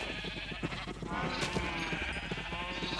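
Sheep in Minecraft bleat repeatedly over a steady backdrop of game music and ambient noise while they are being bred, with several bleats overlapping through the moment.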